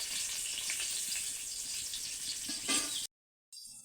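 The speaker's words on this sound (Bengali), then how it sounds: "বেগুন ভাজা না বেশি মানে আগুন পেলে পুড়ে যায়, সেই জন্য আমি অল্প জ্বালান দিচ্ছি।" Eggplant sizzles steadily in a pan over a low flame, a bright continuous hiss with small crackles, then cuts off abruptly before resuming faintly.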